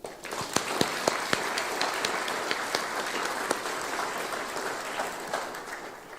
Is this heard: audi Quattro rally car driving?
no